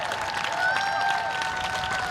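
Steady applause from a crowd at a Relay for Life event, a dense even wash of clapping heard at a distance, with a faint tonal whine running through it.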